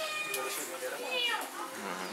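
A kitten indoors in a Brazilian home makes short, high meows over a quiet background, while a person talks at the same time.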